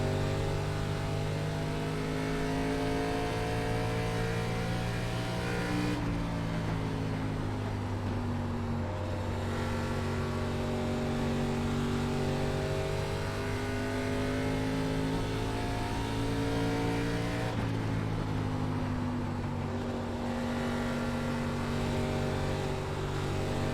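An ARCA race car at full throttle around Iowa Speedway, its engine a loud, sustained high-pitched roar with steady harmonics that shift twice as it upshifts or backs off between corners, close and continuous throughout.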